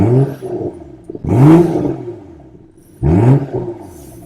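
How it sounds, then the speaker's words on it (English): A 2022 BMW M440i Gran Coupe with an inline-six and performance exhaust revs twice up close, each blip rising sharply in pitch and then dropping back to a lumpy idle. "Then we have a couple revs of the engine here."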